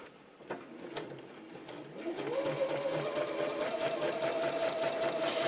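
A sewing machine stitches quilt binding, starting with a few slow single stitches and then settling into a fast, steady, close whirring run with a rising motor hum.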